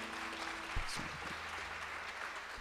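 Faint, steady clapping from a church congregation during a worship service, soft and even throughout with a low hum and a few small knocks beneath it.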